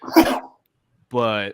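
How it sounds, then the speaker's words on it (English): A single sharp, explosive sneeze or cough bursts out close by, followed after a short pause by a brief voiced sound from a man on a wrestling podcast. "bless you if that was a sneeze"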